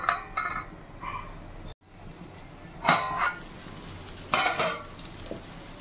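Egg podi (egg bhurji) being stirred and scraped in a hot pan, giving soft sizzling with a few distinct spatula strokes spaced a second or two apart, fairly quiet and close.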